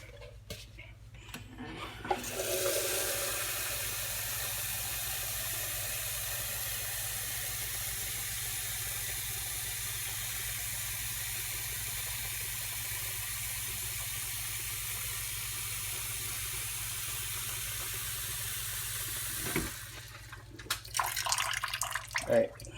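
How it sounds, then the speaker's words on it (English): Water running steadily from a tap into a 32-ounce container, a continuous hissing rush lasting most of the stretch, with clunks and handling noises at the start and end. "we're just gonna fill this thing up once and pour it into a saucepan"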